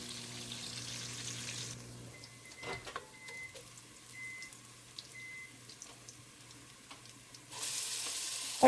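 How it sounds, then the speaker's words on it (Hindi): Faint sizzling of food frying in a pan until golden brown, a quiet steady crackle with a low hum, broken by a few clinks and brief stirring sounds before the sizzle swells again near the end. "आपको इसे उस वक्त तक भूनना है जब तक कि ये गोल्डन ब्राउन नहीं हो जाती थोड़ी सी।"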